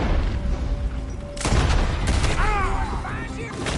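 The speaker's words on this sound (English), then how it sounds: "Well, shoot them then." Gunfire in a PS4 shooter game: a sudden loud burst of shots breaks in over steady game ambience and keeps going, with voices calling out beneath it.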